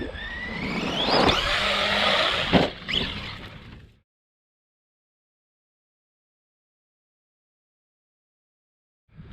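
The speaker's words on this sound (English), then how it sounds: "You can control everything with a short wheelbase stunt truck." A short-wheelbase RC stunt truck bashing, its electric motor whirring and whooshing loudly up close for about four seconds before cutting out to silence.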